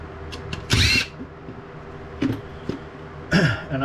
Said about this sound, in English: I'm going to get all these screws out that are holding everything in.